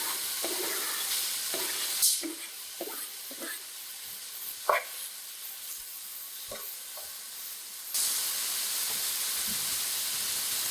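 Steady sizzle and hiss of chicken frying in melted butter fills the background, with occasional clinks and scrapes of a utensil in the pan; the sizzle grows louder near the end.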